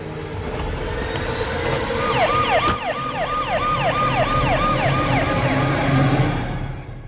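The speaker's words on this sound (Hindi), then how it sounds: "तू एम्बुलेंस में बैठ" An ambulance siren wails in a repeated rising-and-falling pattern, loud and close, over steady traffic rumble with no talking.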